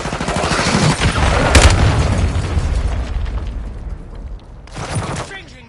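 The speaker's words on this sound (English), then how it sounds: "Friendly cruise missile inbound." A Call of Duty cruise missile strike booms loudly, with rolling explosions and scattered gunfire bursting over a rumbling blast, then a second sharp hit near the end.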